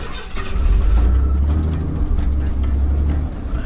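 A classic Ford F-150 pickup's 4.9-liter inline-six engine turns over and starts, settling into a steady, deep, rumbling idle close by.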